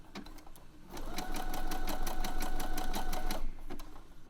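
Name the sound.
sewing machine stitching elastic on knickers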